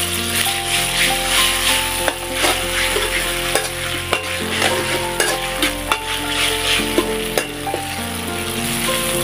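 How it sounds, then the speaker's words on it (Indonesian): Ground chili sautéing in a pan, a steady close sizzle and frying hiss with a stirring utensil scraping and clinking at irregular intervals over a continuous background hum. "Tumis cabai yang kita giling tadi."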